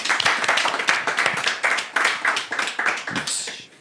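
Small studio audience clapping for the producer of a French comedy show, close, uneven hand claps in loose bursts that thin out toward the end.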